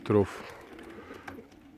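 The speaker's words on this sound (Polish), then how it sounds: "gołębie już w gołębniku wyprzedziły mnie także jeszcze zlatują się pojedyncze" A racing pigeon at a loft gives a single short, close coo at the start, followed by quiet rustling and faint background sounds.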